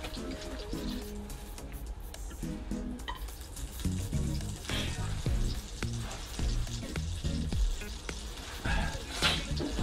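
Walleye fries in hot butter at an ice fishing camp, a crackling sizzle that grows louder midway, mixed with clatter, tonal background noise and brief voice sounds.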